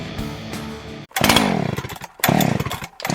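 A chainsaw engine revs loudly in bursts, its pitch sweeping up and down with short pauses between runs and no talking.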